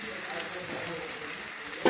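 Fried potatoes and flat beans sizzle steadily in a pan as ground turmeric goes in, a brief, even crackle with a sharper stir or scrape at the very end.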